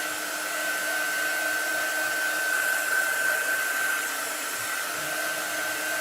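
A hair dryer blows steadily on a painted chalk design, giving a constant close-up whooshing hum with a fixed tone and no pauses.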